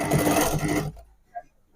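A sewing machine runs in a fast, dense burst of stitches along a blouse side seam, close and fairly loud, then stops abruptly, leaving near silence and a faint soft click.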